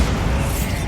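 A Bombarda blasting spell going off in Hogwarts Legacy, one loud, close, booming explosion with rumbling low-end that fills the whole second without a clear onset or tail.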